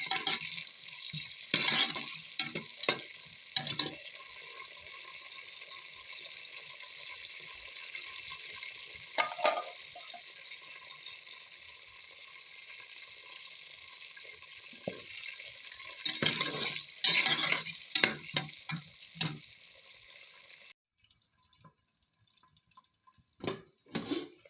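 Potatoes fry in a pan, a steady hiss broken by bursts of scraping and clattering as they are stirred, then a sudden drop to near silence at the end.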